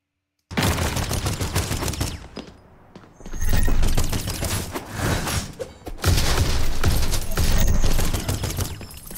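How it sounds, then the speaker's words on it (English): Dense, loud video game weapon fire fills the scene, a continuous barrage of gunshots and booming blasts with a short lull partway through, no voices. "even the weapon fire."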